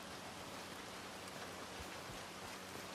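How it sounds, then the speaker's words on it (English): Steady rain pours in Red Dead Redemption 2, a dense, even hiss of falling drops that fills the whole stretch with no pauses and no voices. "Oh, I wish that rain wasn't here"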